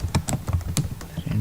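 Fingers type C++ code on a computer keyboard with quick, close, steady key clicks and a few heavier strokes, all packed into a short burst with no talking.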